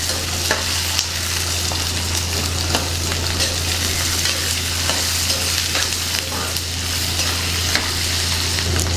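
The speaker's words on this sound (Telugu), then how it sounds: "ఇప్పుడు ఎండుమిర్చి వేసుకుందాం కొన్ని పచ్చిమిర్చి వేసుకుందాం వీటిని బాగా వేయించుకుందాం" Peanuts, garlic, onion, and dried and green chillies fry and get stirred in a pan for a tamarind peanut chutney, giving a steady close sizzle with scraping stir strokes throughout and a low hum underneath.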